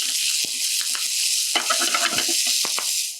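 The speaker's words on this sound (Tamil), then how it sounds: "ஒரு 4லேருந்து 5 நிமிஷம் நல்லா வதக்கி எடுத்துருங்க." Vallarai greens (pennywort) sauté in a hot pan, a loud close sizzle throughout with occasional scraping stirs and clicks of the spoon against the pan.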